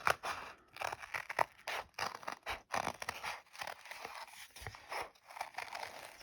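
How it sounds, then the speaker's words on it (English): Fancy scissors snip through paper while cutting around shapes for a hare table runner, giving a run of close, crisp crunching cuts with short pauses between strokes. "So all you need to do when you use these is cut around them."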